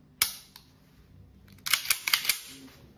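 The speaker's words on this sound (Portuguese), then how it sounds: "Vamos ver se ela vai, ó, funcionando o nosso ferrolho." Metallic clacks of a Girsan MC 1911 9mm pistol slide being worked by hand: one sharp snap, a faint knock, then a cluster of several quick racking clicks close to the microphone with no talking.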